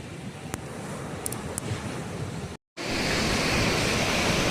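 Sea waves break on Krishnapatnam beach near Nellore on a foggy morning, a constant roaring wash mixed with wind noise, briefly cut off by a short dropout before resuming louder.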